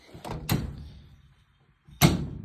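An LG ThinQ front-loading dryer door is opened and closed, giving two close thuds of the door early on, a short quiet gap, then a firm shut near the end.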